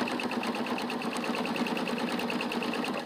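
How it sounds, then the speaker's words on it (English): A sewing machine stitches quilt binding at a steady fast pace, its rapid rhythmic needle chatter continuous and close throughout. "I'm going to sew right off the edge here on the corner"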